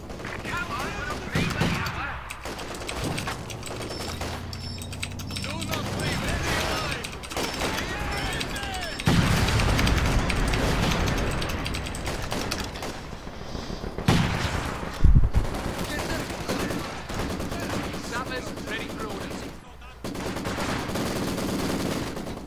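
Mortar and gunfire in the Company of Heroes strategy game, with dense bursts of rifle and machine-gun fire and heavy booming impacts rolling continuously, someone talking over the battle throughout.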